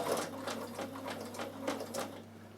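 A Bernina sewing machine zigzag stitches a button onto chiffon, locking off before and after, producing faint, quick rhythmic needle thumps in short bursts over a low hum.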